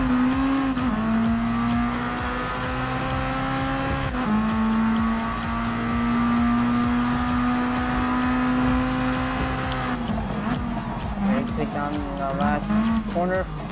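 Amuse S2000 GT1 Turbo tuner race cars in Gran Turismo Sport at night in Tokyo, a loud sustained engine drone that holds steady, dips briefly on gear changes and then wavers, with a commentator talking over it.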